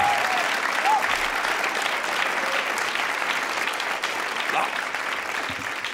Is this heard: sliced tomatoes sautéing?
no